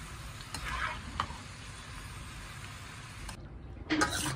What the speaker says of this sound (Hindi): ये देखिए, फ्राइज हमारे हो चुके हैं, फ्राई हो गए हैं। अब हम इसको निकाल रहे हैं।